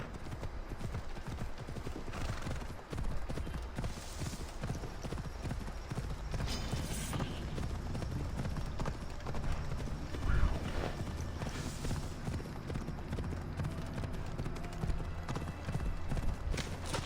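Horse hooves clip-clop in a steady galloping rhythm in Assassin's Creed Odyssey, with an occasional whinny, close and continuous over background game ambience.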